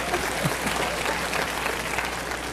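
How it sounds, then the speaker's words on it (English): An audience applauds at a motivational speaking event, a steady dense wash of many hands clapping together throughout, fairly loud and with no voices over it. "You applaud for them, huh?"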